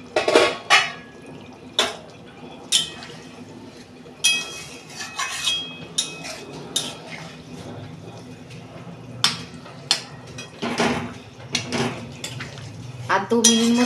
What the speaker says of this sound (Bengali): ঢাকনা খুলছি